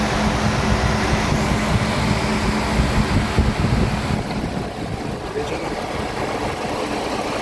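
Dodge Magnum 3.5 engine with a dual alternator setup running at a steady idle, a continuous close rumble with some wind or fan hiss and no variation in pace.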